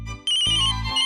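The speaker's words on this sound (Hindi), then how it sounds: "डैड का फोन है" A mobile phone ringtone plays for an incoming call from Dad, loud and close, a bright melodic electronic tone that starts abruptly and continues steadily.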